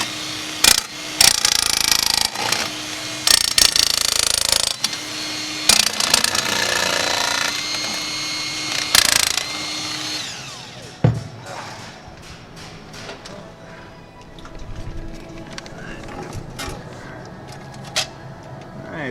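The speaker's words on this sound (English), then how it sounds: "I just gotta cut out one more rod." A power tool grinds through a metal rod in loud bursts with pauses, followed by quieter scraping, clanks and handling noises while fitting a Hilti fire stopping collar.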